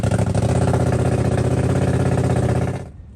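A BMW F900R motorcycle engine runs with its muffler removed, a loud, close, raw pulsing drone that holds steady for nearly three seconds, then cuts off abruptly.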